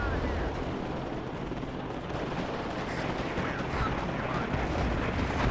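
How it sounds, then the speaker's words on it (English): Incoming artillery fire in the WARNO real-time strategy game, a dense, continuous rumble of distant shelling and gunfire sustained at steady loudness throughout. "You see artillery now coming in from our opponent."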